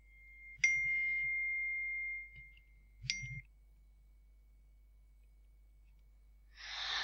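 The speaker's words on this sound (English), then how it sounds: "That's my messages on my phone." Two bright phone message notification chimes, each a sharp ding with a lingering ring, a few seconds apart in a quiet room, with a soft rustle near the end.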